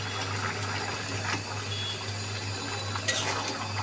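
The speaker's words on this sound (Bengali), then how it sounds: "দেখেন, জলটা কিন্তু ফুটে আসছে।" Water comes to a boil in a pot while jackfruit curry with beef fat cooks, giving a steady, close bubbling hiss over a low constant hum, with no talking.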